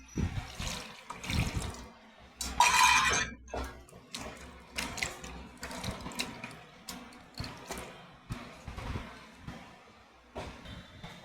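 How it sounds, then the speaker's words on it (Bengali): Water pours and splashes into a pot of mashed jackfruit seed dal in bursts, close and fairly quiet, with light knocks of a ladle in between. "এবার একটু জল দিয়ে দেবো"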